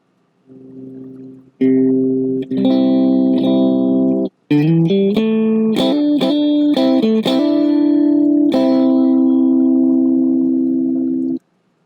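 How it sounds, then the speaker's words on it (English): Electric guitar through a Boss Katana amp on the Crunch channel, lightly overdriven: a few chords, then a busier melodic run, ending on a sustained ringing chord with a touch of reverb. "here's the sound of my Boss Katana on the Crunch channel with just a"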